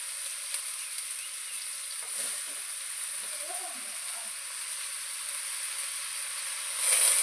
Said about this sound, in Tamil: வெங்காயம் கட் பண்ணி வச்சுருக்கோம், அதையும் ஆட் பண்ணிக்கலாம்.